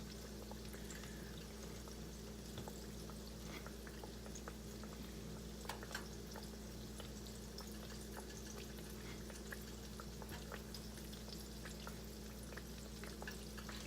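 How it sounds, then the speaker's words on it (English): Steady sizzling and crackling of zucchini frying in oil, continuous and even, with a low hum underneath and occasional tiny pops. "the zucchini is still frying"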